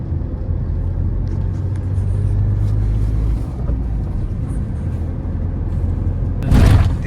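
A diesel car cruising in fifth gear gives a steady, close engine and road rumble throughout, with a brief louder burst near the end.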